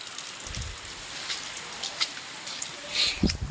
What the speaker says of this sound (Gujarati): બહાર કંઈક વરસાદ ચાલુ છે